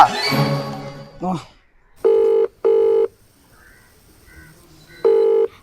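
After a brief spoken line, an outgoing phone call rings: three loud, evenly spaced electronic ringback pulses, with quieter sounds between them.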